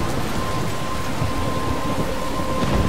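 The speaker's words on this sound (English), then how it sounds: "I'm trapped in a storm?" Thunderstorm with steady heavy rain and a low rumble of thunder in the Life is Strange video game, a constant dense wash throughout with no talking.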